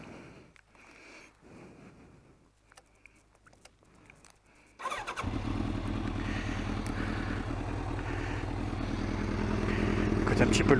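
A Kawasaki ZZR 1100 four-cylinder motorcycle sits on its centre stand and fires up after a few seconds of quiet clicks and handling noises, settling into a loud, steady idle that grows slightly louder toward the end.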